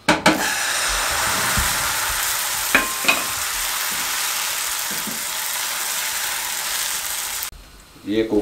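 Egg roll sizzling in a pan: a loud continuous frying hiss with a few scraping clicks of a utensil, cutting off sharply near the end into quieter handling noises.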